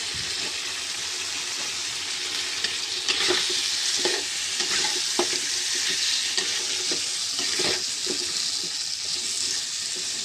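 Chopped tomatoes fry in a pan with a steady, loud sizzle that lasts throughout, while a spoon stirs them with occasional scrapes and knocks against the pan. No one speaks.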